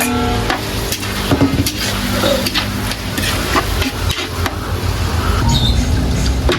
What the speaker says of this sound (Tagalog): Mix na natin yung hipon ha.